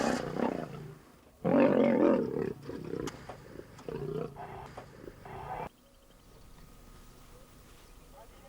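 Asiatic lions fighting in the Gir forest, giving out several loud, rough growls and roaring snarls in uneven bursts, then dropping to a quieter background.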